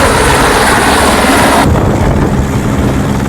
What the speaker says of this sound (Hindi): फाइटर जेट और अटैक हेलीकॉप्टर लगातार उड़ान भरते रहे